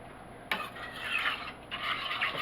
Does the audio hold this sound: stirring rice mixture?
yes